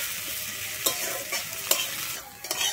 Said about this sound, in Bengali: আমি পেঁয়াজ আর কাঁচা লঙ্কাটা একটু ভেজে নিচ্ছি।